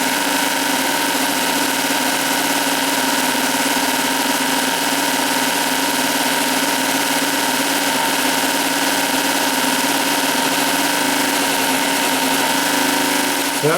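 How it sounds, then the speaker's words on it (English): A chainsaw motor fitted to a motorized chopper bicycle runs at a steady idle, a loud continuous buzzing drone with no voices. "That was with the original motor on here, which was a chainsaw motor"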